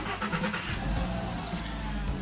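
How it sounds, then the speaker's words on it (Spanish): A car engine in Omar VW's garage, running with a steady, dense rumble at close range throughout, with no clear cranking burst and no talk. "vamos a comenzar a encender nuestro auto"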